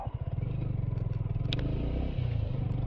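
A modified Yamaha R15 motorcycle rides along with a close, rhythmic engine throb and some clattering. One brief sharper noise stands out midway.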